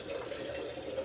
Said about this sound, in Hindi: तो अब तो मैंने आर ओ का पानी चला दिया